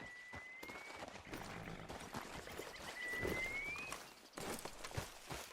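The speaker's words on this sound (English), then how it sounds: "How's that horse treating you?" Horse hooves clop along at a walking pace in Red Dead Redemption 2, with brief pitched tones and shifting background noise mixed in.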